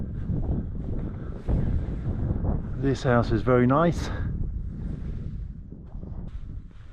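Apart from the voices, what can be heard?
wind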